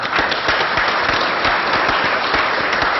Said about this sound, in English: I want to ask you to give them a big applause